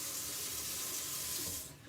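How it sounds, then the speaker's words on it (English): Water splashes into a pan of sautéing mushrooms, a steady hissing, running-water sizzle that holds for nearly two seconds before tapering off. "I'm going to give it a little bit of a splash of water to pick up the full caramelization"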